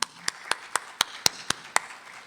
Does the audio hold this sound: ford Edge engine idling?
no